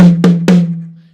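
A rack tom on a four-piece drum kit struck three times in quick succession, loud and close, with a deep resonant pitched body ringing out and slowly fading, no voices.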